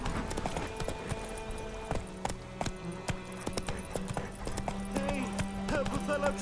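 Roach the horse gallops in The Witcher 3 video game, with steady clip-clop hoofbeats throughout, loud and close, alongside game sounds and a speaking voice.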